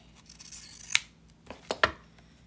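Scissors snip through fabric in a few sharp, close cuts, with a single snip followed by a quick cluster of two or three more, against a quiet room.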